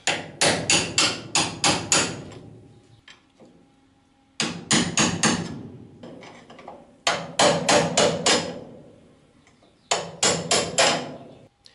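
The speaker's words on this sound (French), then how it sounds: "pour les défreiner, au début, j'utilise un burin pour les décoller" A hammer drives a chisel to free lock washers on the upper arm axle nuts of a Traction 11B front axle, sounding as loud, sharp metallic strikes in fast bursts of five or six, repeated four times with pauses between.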